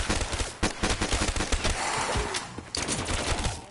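Rapid, dense gunfire from a zombie shooter video game, with bursts of automatic shots rattling almost continuously, loud and close, and a brief dip before the firing resumes.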